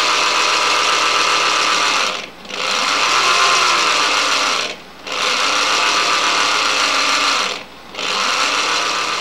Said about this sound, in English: a motor driving a little gear reduction box to the tiny generator